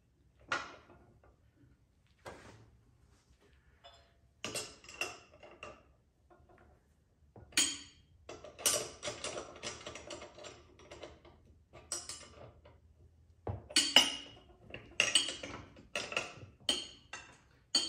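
A BeadBuster bead breaker being tightened down on an ATV tire rim, with irregular metallic clanks, ratcheting clicks and scraping in scattered bursts over a quiet background, close by.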